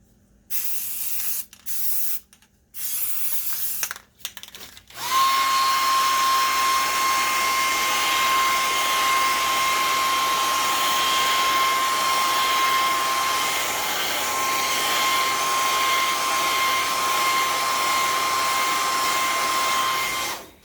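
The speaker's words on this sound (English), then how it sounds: "I'm going to really speed up the process by adding a hairdryer to it." After a few seconds of brief clattering, a hair dryer switches on to dry primer on a display stand, blowing steadily with a loud whooshing hiss and a faint whine.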